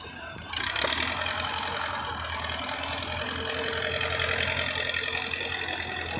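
Tractor engine running steadily at a farm site during earthmoving work, a continuous close mid-pitched diesel drone with a slight knocking texture and no talk.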